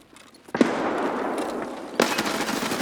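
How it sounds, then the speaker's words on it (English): A grenade goes off in Escape from Tarkov with a sharp blast followed by a rumbling roll, then a second hard crack about a second and a half later, fairly loud and close. "I decide to throw a grenade."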